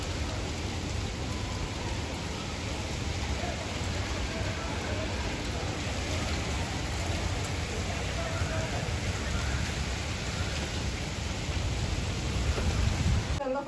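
Heavy rain pours down in Dubai as a continuous, even hiss of drops striking surfaces, steady and close throughout with no letup.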